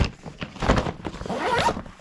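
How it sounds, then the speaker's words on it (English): A zipper on a plastic toy packaging bag for a Thomas & Friends railway builder kit is pulled open in one continuous close, loud rasp lasting about two seconds, with no voices over it. "Now I should be able to unzip the bag."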